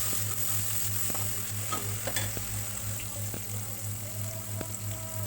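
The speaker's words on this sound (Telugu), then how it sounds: "కరివేపాకు వేసుకుని ఇలా కలుపుకుంటూ ఫ్రై చేసుకోవాలి" Curry leaves and salt with garlic paste stirred and fried in a pan, a quiet continuous sizzle under a low hum, with occasional soft taps and scrapes of the stirring spoon, near and without voices.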